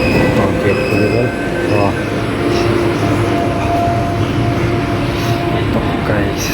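A metro train runs on the way to the Red Fort, making a steady, loud rumble of wheels on rails with faint high squeals and hum throughout.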